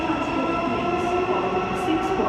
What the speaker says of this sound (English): I thought the 3 bridge train had already departed.